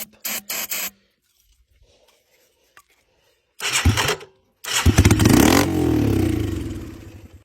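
A Yamaha three-wheeler's small engine turns over in short sputtering bursts, falls quiet, then catches briefly with loud popping and revving before dying away.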